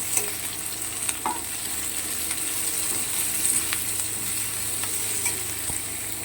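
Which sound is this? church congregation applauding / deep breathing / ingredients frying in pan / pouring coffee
ingredients frying in pan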